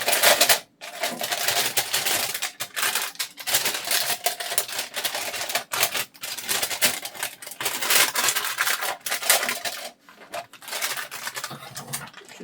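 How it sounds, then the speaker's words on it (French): Scissors snip through a small plastic sublimation bag for a mug, a dense run of crisp crinkling cuts and rustles close by with brief pauses between strokes. "comme les sachets à mug sont un peu petits, je vais simplement hop, le découper comme ça"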